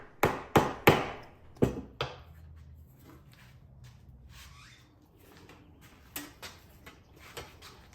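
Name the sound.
lump hammer tapping a saw blade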